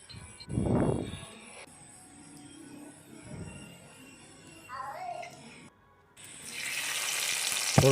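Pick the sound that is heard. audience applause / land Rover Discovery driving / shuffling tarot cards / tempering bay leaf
tempering bay leaf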